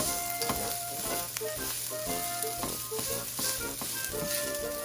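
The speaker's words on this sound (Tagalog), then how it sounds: "So this is called garlic fried rice." Garlic fried rice sizzles in a pan, a dense continuous hiss with stirring scrapes and a musical background underneath, no talking.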